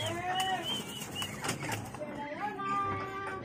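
Pigeons flap their wings as they fly into a loft, with brief fluttering bursts and some faint cooing, over a steady background.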